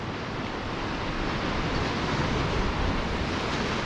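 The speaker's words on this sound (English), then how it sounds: "These waves are ripping right." Big ocean waves break and surge before a storm, a continuous loud roar of surf mixed with wind buffeting the microphone, with no voices.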